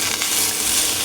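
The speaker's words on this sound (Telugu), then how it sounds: "ఇప్పుడు చింతపండు వేసుకొని కొంచెం వేయించుకోవాలన్నమాట." Tamarind sizzles and fries in a pan for pickle, a dense continuous crackle close up with no talking.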